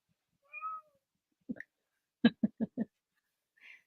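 A cat gives a series of meows, first a drawn-out cry, then a burst of short clipped mews in quick succession and a faint final call, all fairly close and alone in a quiet room.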